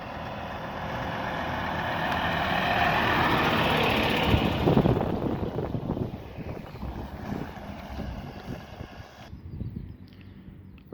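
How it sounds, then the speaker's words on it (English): A large lorry rumbles steadily closer and louder on a country road in Mattishall, Norfolk, under outdoor wind noise, peaks, then fades away into quieter background; no talking. "Got a huge lorry coming up here now,"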